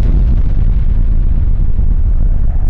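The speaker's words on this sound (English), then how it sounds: "Nice beefy explosion, quite bassy, and a bit of a wind sound." Stock explosion sound effect: a deep, bassy, beefy blast rumbling loud and continuous throughout, with a wind-like rush layered on top and no voices.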